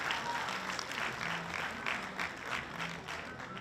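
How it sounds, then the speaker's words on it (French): An audience claps steadily for a performer at a Nuit des Lompolo 2025 evening show, a sustained patter of many hands at moderate distance with a few faint voices mixed in. "On va l'acclamer très fort, s'il vous plaît."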